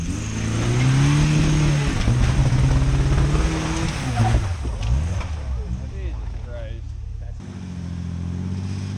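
Jeep spinning its tires to warm them, a loud continuous engine roar with revving swells and a harmonic whine that drops away near the end, with people talking over it.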